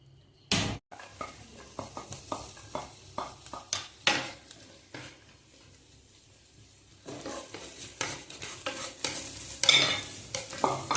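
Onions sauté in coconut oil in a pan with a light sizzle while a spoon scrapes and stirs in repeated sharp strokes, fairly close.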